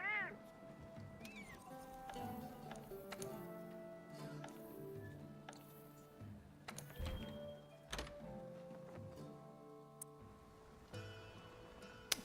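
Two or three clear cat meows from a cat in the video game Monster Hunter World, mostly near the start, over steady in-game music and soft clicks and thumps.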